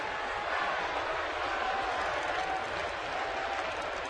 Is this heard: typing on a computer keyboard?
no